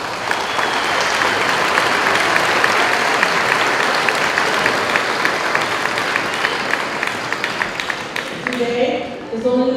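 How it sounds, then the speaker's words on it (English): A crowd at a high school graduation ceremony in June 2024 claps in sustained, loud applause for nearly ten seconds, tapering off as a speaker's voice returns at the end. "let's give a round of applause to all your loved ones who helped you be here today"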